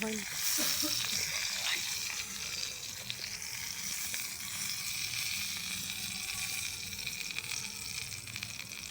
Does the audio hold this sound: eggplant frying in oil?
yes